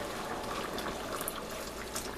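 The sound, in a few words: water added to a pot of stewing potatoes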